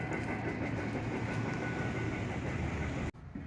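A slow-moving freight train rolls past at Cass Railroad in West Virginia, its steady heavy rumble and faint clickety-clack filling the air continuously before cutting off abruptly near the end.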